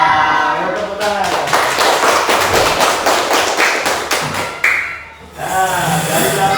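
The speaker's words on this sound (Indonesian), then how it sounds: "Ayo tepuk tangan." Rhythmic hand clapping along with a children's song in an elementary school lesson, steady sharp claps repeating for several seconds with singing or voices over them, pausing briefly near the end.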